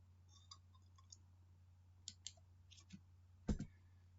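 A computer mouse clicks a few times at irregular intervals, soft single clicks followed by a louder double click near the end, close by over a faint steady hum, with no speech.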